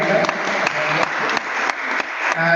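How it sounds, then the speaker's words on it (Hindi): An audience at an Asian church fellowship gathering claps, a fairly loud and steady patter of many hands with a few sharper individual claps standing out, continuing throughout. "जोरदार तालियां साइमा के लिए"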